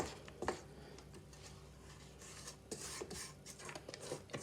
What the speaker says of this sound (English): I'm going to stop and scrape down the sides again.